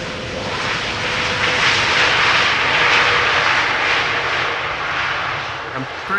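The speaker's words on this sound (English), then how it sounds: "Sky Express arriving from Zakynthos, A320neo next to land." Sky Express Airbus A320neo landing at Amsterdam Schiphol on the Polderbaan, a loud jet engine roar swelling and fading as it passes, with a person talking over it.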